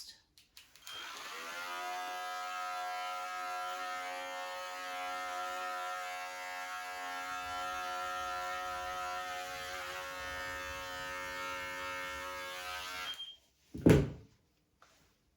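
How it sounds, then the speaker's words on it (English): A small electric clipper buzzes steadily through a standard poodle's coat, its close, even drone running for about twelve seconds before it cuts off, followed by a sharp knock. "I'm just going to go in with my little clipper at the moment and just"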